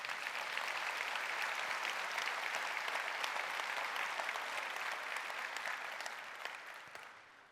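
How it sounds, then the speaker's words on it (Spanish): A church congregation claps together during a sermon, a sustained full round of applause that stays strong and even, then fades slightly toward the end. "Le damos un fuerte aplauso a Jesucristo por esto."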